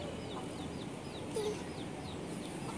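Chickens on a rooftop cluck softly in a few short calls against a steady outdoor background hum, with a child nearby but no clear talking.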